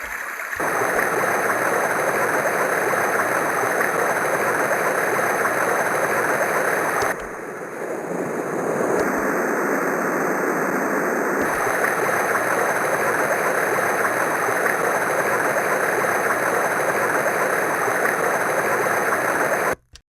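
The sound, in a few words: waterfall soothing sound recording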